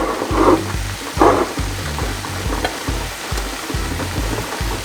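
Callaloo being stir-fried in a pan, a steady close sizzle with two louder bursts of stirring early on and a repeating low thump running underneath, no voices.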